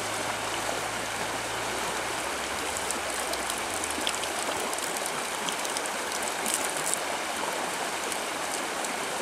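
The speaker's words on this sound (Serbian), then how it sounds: "Ovo mesto je reka" The Zlotska river flows near the village of Sumrakovac, a steady, full rush of moving water that holds an even level throughout, with a faint low rumble in the first few seconds and no voices.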